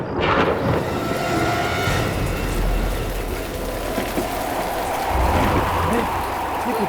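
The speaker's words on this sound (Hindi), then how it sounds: "ये तूफान कैसा?" A strong storm wind sweeps across a graveyard, a steady, loud broadband roar of gusting air with low rumble that continues unbroken throughout.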